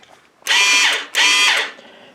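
A burnt-out DC-converted flux core welder fires up as its trigger is squeezed, giving two loud, whining buzzing bursts separated by a short gap, close and without talk.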